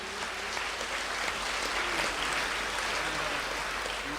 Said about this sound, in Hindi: प्रभु के लिए हम ताली बजाएंगे